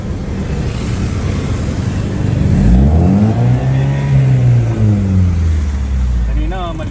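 A Toyota Avanza first-generation car with a 3SGE Beams engine revs up and down during tuning, in rising and falling sweeps, loud and close, with a brief higher whine near the end.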